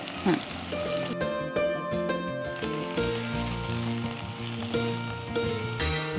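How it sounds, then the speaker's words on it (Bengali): Chopped onions sizzle and fry steadily in hot oil for a spiced chickpea dish with chui jhal, a continuous crackling hiss under tonal background music. "আমি এখন একটু পেঁয়াজ কুচি দিচ্ছি তেলে"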